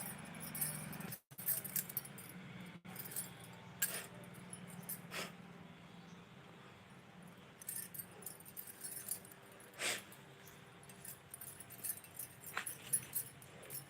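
Glass bangles jingle on a wrist in light, scattered bursts, quiet and close, during a Pongal festival greeting at home, with faint background noise between the shakes.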